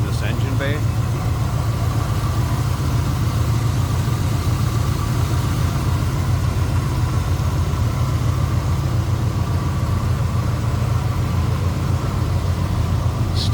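A 1967 Chevrolet C10 pickup engine idling smoothly, a steady low even rumble close by that holds unchanged throughout, with faint talk at the very start.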